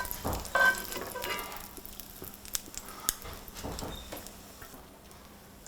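An egg, bacon and onion sandwich sizzles in a frying pan, a soft steady crackle with occasional clicks and scrapes, quiet and close with no talking.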